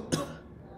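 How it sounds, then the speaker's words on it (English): A single short, fairly quiet throat clearing close to the microphone, with nothing after it. "Sorry, I had to clear my throat."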